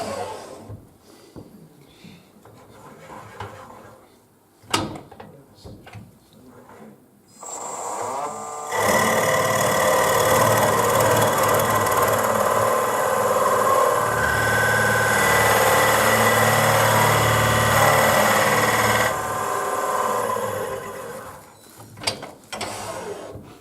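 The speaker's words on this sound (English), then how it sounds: "That's no special Forstner bit I'm using." A drill fitted with a 41 mm Forstner bit bores into wood for a tealight holder. After soft handling noises comes a steady loud mechanical whir for about ten seconds, which then winds down to quiet clicks.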